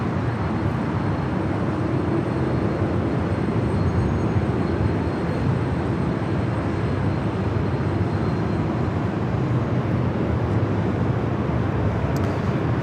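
Airbus A350-1000 airliner at LAX, a steady broadband jet roar holding evenly throughout at moderate distance, with no talk.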